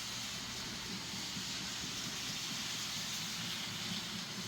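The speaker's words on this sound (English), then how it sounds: "Okay, Ray wanted to show Artie some of the trains moving along." Model trains run on a model railroad layout, producing a steady, even whirring rumble with a faint rolling texture, moderately close and without pauses or voices.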